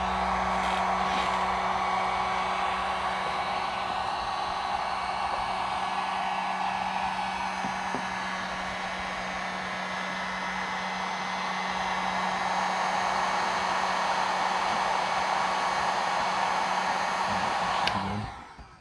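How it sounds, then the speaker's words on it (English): A heat gun blows steadily while heating the tint film edges on a Lexus GS400 headlight, a constant airy roar with a low hum that holds for the whole stretch and stops abruptly at the end. "John, we want to go slowly around the border and heat all that up."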